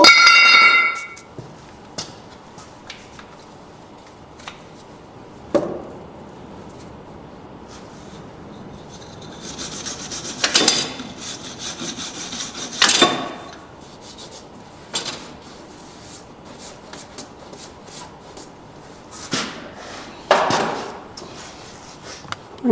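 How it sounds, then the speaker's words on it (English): Grime is rubbed off the metal axle surfaces of a LeSharo, with short scraping and rubbing bursts mixed with light metallic clinks, spaced irregularly against a quiet background. "Just cleaning those surfaces off so you don't have any junk or grime on there."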